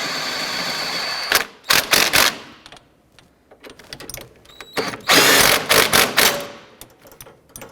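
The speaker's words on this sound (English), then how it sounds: "let's go ahead and tighten down our bracket bolts here" A power tool drives bracket bolts on a 2009-2015 Honda Pilot engine mount in several loud, rattling impact bursts of varying length, separated by quieter pauses.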